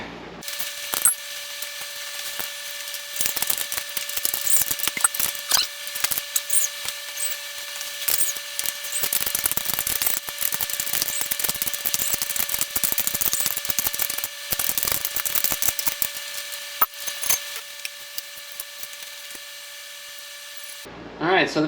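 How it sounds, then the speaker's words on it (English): A wrench works the built-in chain tensioner on a Mega Moto 80/105 mini bike, giving a long run of steady ratcheting clicks and metallic tool rasps close by, with brief pauses near the end. "this thing does have a built-in chain tensioner on it, so we can go ahead and adjust that"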